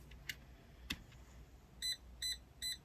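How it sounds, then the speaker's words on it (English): Three short electronic beep bursts from an RC car's speed controller (ESC) in a steady rhythm near the end, after a couple of faint clicks, quiet and close, as its set button is held. "we got our beeping from holding it"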